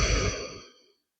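One deep, audible exhale during guided meditation, a single close breath that fades out within a second and leaves silence.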